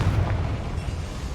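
A fiery blast spell erupts in the Hogwarts Legacy video game, a short, dense rumbling boom with crackling noise that fills the moment without talk.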